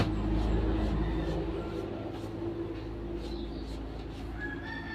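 Chickens cluck and a rooster crows against a steady low background rumble, the birds sounding fairly close but not loud.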